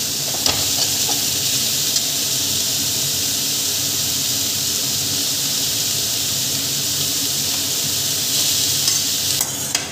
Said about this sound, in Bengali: বাঁধাকপিটা এর উপরে দিয়ে আস্তে আস্তে করে নাড়ব, যাতে মশলাটা মিশে যায়